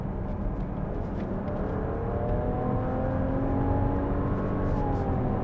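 A Nissan X-Trail with a small engine accelerates hard in Sport drive mode with the gearbox in S, its engine whir climbing steadily in pitch and staying loud and close throughout.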